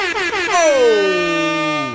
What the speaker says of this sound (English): little DJ air horn action